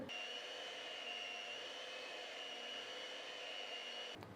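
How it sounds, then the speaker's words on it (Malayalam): Electric mixer beating plum cake batter at low speed, a steady even motor whine held for several seconds before cutting off abruptly, with no talking. "ഇനി ലോ സ്പീഡിൽ ഒരു മിനിറ്റ് നേരം ഒന്ന് ബീറ്റ് ചെയ്യാം"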